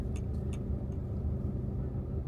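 A steady rumble of car traffic with engines droning nearby, continuous throughout with a few faint higher clicks early on.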